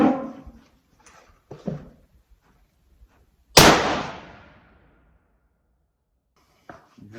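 A single sharp rifle shot cracks loudly and echoes away outdoors on a fallow deer hunt in Tasmania, with brief faint clicks and handling noises before and after.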